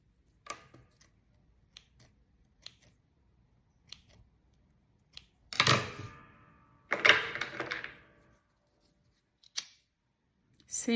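Scissors snip thread ends while making a bag: a series of sharp isolated clicks spaced across the quiet, then two longer close rustling cuts in the middle, with no talking.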